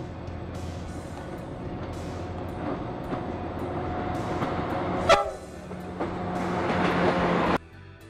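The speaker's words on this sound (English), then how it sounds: "BC Rail's Bud RDCs came equipped with the Nathan K5H air horn." A Nathan K5H air horn sounds on a BC Rail Budd RDC railcar, a sustained chord blowing over the rumble of the moving train, with a sharp burst midway before the horn cuts off near the end.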